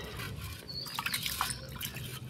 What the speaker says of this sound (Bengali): ভালো করে ধুয়ে নেব চালটা।